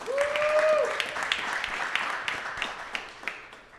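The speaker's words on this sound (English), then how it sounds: "Can we clap one more time for that?" An audience at a talk applauds, a steady wash of clapping under a speaker's voice that holds fairly loud and then tapers off over a few seconds.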